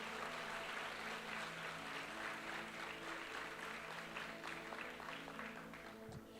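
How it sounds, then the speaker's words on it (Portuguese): A church congregation applauds during a sermon, a dense steady wash of clapping that holds evenly across the whole stretch, with a sustained musical tone running underneath throughout. "Dá um aplauso ao Senhor em nome de Jesus."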